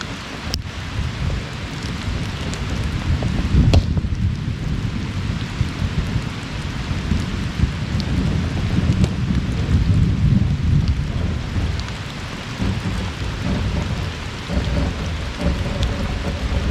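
Steady rain pours down outdoors in the Kentucky mountains, with rumbling thunder rolling underneath and a couple of sharper cracks, a dense continuous wash of drops and low rumble with no voices.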